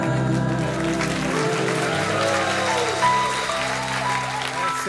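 Audience applause for a band at a live stage event, a steady wash of clapping with faint voices mixed in, continuous and fairly loud throughout.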